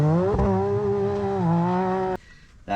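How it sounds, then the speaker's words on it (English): A Can-Am Maverick R side-by-side fitted with an RPM aftermarket exhaust revs hard and holds a loud, raspy note for about two seconds. It then drops off abruptly and briefly swells again at the end. "I do have an RPM exhaust on this thing"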